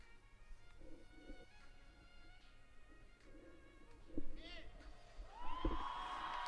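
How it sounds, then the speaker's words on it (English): A crowd cheers a gymnast at the Cairo World Cup gymnastics competition, a swelling roar and whoops rising twice from a distant arena, with a commentator talking over it throughout. "Gets an enormous cheer, Artur Avtisian, the World University Games champion"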